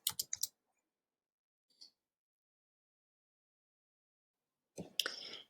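A computer mouse clicks in a quick burst of three or four sharp clicks, then one faint click, before a brief louder noise at the end in an otherwise quiet room.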